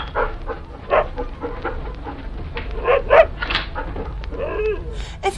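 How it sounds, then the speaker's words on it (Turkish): A dog whimpers and yelps in short irregular cries while being beaten with a hornbeam stick by a shepherd, heard fairly close against a murky background in a Turkish folktale scene. "Merada bir çoban elinde gürgen sopası köpeği dövüyor"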